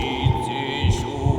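In the Kuon horror game, three soft, low heartbeat thuds land at even intervals beneath a constant droning hum, muffled and close.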